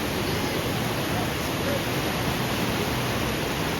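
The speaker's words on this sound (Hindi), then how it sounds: "यहाँ से जब टर्न कर रही है माँ गंगा तो बहुत ही ऊंची ऊंची रैपिड और लहरें बन रही हैं" The Ganga river churns in high rapids and waves during heavy rain at Haridwar, heard as a loud, unbroken broadband roar of rushing water and rainfall that stays constant throughout.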